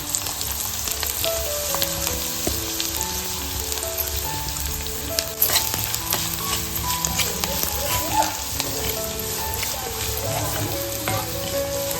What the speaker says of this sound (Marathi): कांदा घालून घेते